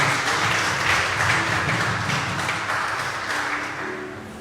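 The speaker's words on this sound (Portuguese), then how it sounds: "uma salva de palmas" A church congregation applauds in a dense, steady wash of clapping that slowly fades toward the end.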